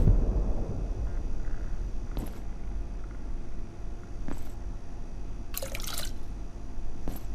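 Liquid poured onto a plant in the video game Abiotic Factor: brief, faint splashy drips and trickles in short bursts over a steady low background hum, with no voices.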